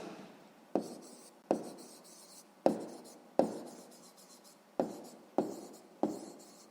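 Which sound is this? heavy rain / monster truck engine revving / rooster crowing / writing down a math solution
writing down a math solution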